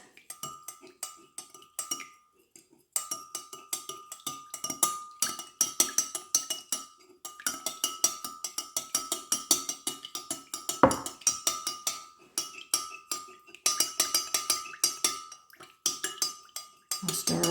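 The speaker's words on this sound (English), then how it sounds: "And then you just give it a good stir for 2 minutes." A spoon stirs wax melt mixture with fragrance oil in a glass container, giving quick, repeated close clinks and scrapes that run steadily for seconds with a couple of brief pauses.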